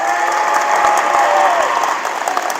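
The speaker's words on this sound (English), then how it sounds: "Let's have a big round of applause for Charlie Olds." An audience applauds at a high school college signing ceremony, a loud, sustained burst of clapping from a crowd that holds steady throughout.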